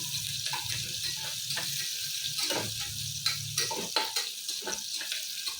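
Onions frying in well-heated oil for a fenugreek sprout rice bath, a steady sizzle with stirring scrapes and a few sharper utensil clinks near the end, close and alone without talk.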